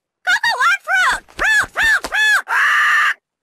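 A parrot-like bird squawks in the Nancy Drew game Ransom of the Seven Ships, a loud, close series of about six rising and falling calls ending in a long harsh screech.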